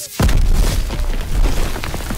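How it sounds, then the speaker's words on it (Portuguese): A single loud, deep explosion boom in the game Call of Duty: WWII, D-Day mission, followed by a rumbling, crackling roar that lingers for a couple of seconds. "Explosão!"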